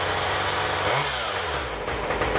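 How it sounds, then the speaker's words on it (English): Stihl MS-193 chainsaw fitted with its regular chain, running loud and close with a continuous buzzing engine note that dips and swells briefly midway. "So here's the saw running, and it has the regular blade back on it"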